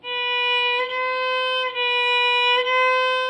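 Four sustained string notes move by small half steps, each held about a second, played cleanly with no other sounds.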